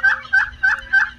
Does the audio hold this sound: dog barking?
no